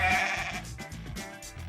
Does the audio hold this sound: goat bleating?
yes